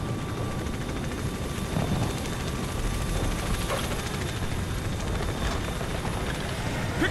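Helicopters flying in the video game Call of Duty: Ghosts, a steady thudding rotor drone that holds loud and continuous throughout, with a few faint bursts of game noise over it.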